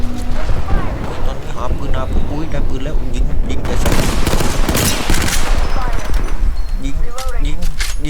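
Rapid bursts of gunfire from the battle royale shooter Apex Legends, dense and loud throughout, mixed with game effects and a player shouting excitedly over the shots.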